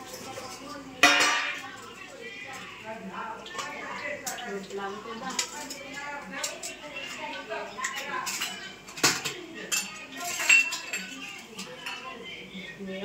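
Steel plates, bowls and spoons clink and clatter as a home thali of rotla, chutney and guvar-potato curry is served, with sharp scattered knocks close by under ongoing conversation.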